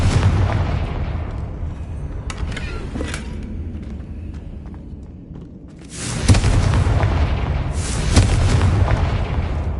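Confringo blasting spells set off explosions in Hogwarts Legacy, with a run of heavy booms and crackling bursts, a quieter stretch in the middle, then fresh loud blasts near the end.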